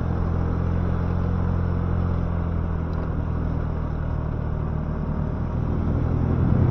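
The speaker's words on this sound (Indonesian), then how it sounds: "Gas dari bawah full." A 110cc petrol motorcycle climbs a hill at full throttle, a loud, steady low engine drone with a constant rumble that holds evenly throughout, close to the listener with no talk over it.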